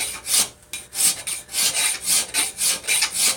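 A hand metal file rasps across a workpiece clamped in a vice, in steady back-and-forth strokes of even rhythm, close and loud with no talk.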